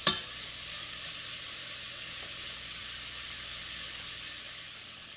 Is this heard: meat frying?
yes